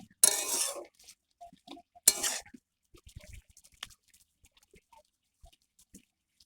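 A spoon clinks and scrapes against a cooking pot while stirring potato and spinach curry seasoned with Kashmiri chili powder, two sharp metallic bursts followed by scattered soft clicks and taps in a quiet kitchen.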